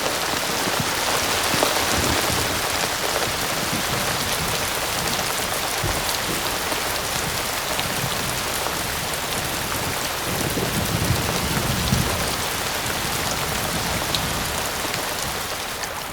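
Heavy rain pours down steadily in an Indian desert, a dense, even hiss of drops striking the ground with no voices.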